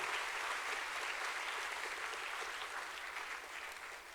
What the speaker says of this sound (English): Let us give a huge round of applause for INVESTISIYA 2023.